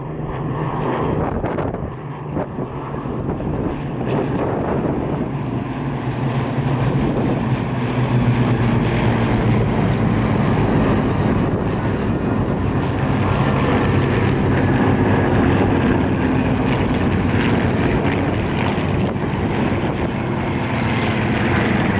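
A de Havilland Venom jet flying at the RIAT 2015 air show, a loud continuous engine roar that swells and holds steady throughout, with broad rumbling wash and no speech.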